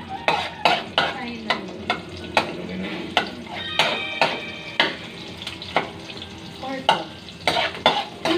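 Garlic fries in a hot pan, a steady close sizzle broken by repeated sharp clinks and scrapes of a utensil stirring against the metal, with no talking.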